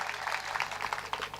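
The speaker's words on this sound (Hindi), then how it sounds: "आप तालियां बजाइए" An audience at a poetry gathering, a kavi sammelan, claps steadily, the applause dense and even with some individual claps standing out, heard at moderate volume.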